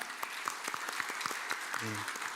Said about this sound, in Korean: 우리 나올 때 따뜻한 환영의 박수를 보내도록 하겠습니다